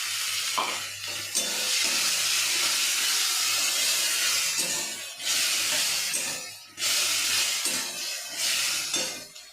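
Tomato paste goes into a hot pan for kadai paneer and sets off a loud, continuous hissing sizzle. The sound dips briefly a few times, then surges back.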